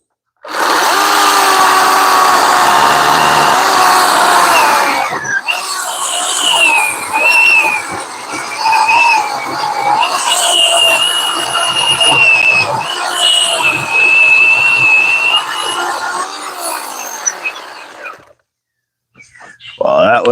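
Battery chainsaw running on a 4 amp hour Edge battery, cutting through wood: a loud, sustained motor whine with pitch shifting under load for about eighteen seconds, then dropping to near silence with a brief restart at the end.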